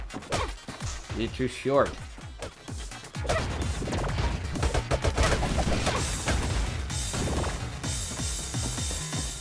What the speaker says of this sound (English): We have the bomb shot. Use that to blow up some blocks.